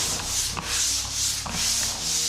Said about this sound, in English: So now it's the sanding part.